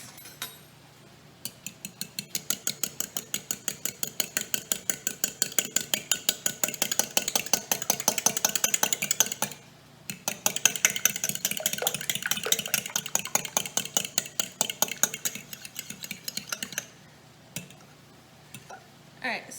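Eggs and milk are beaten in a bowl for a frittata, giving a long run of rapid, close clinking ticks of utensil on dish with a short pause partway through and no talking.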